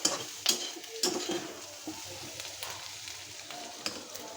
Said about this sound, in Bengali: ডিমটা আমার এখানে ভাজা হয়ে গেছে দেখেন তেল বাড়িয়ে গেছে